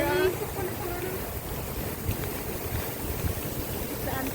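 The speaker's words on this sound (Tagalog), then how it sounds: "We are walking into the street and wind's very windy." Strong wind buffets the microphone on a street walk, a constant loud rumbling roar that carries on with no break.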